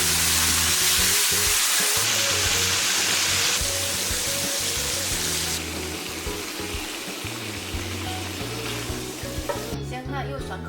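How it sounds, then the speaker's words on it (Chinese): Duck pieces with green and red peppers stir-fried in a hot wok: loud, continuous close sizzling with scraping and tossing sounds, easing slightly midway and ending in a few sharp clatters. "倒入青红椒，翻炒30秒，出锅"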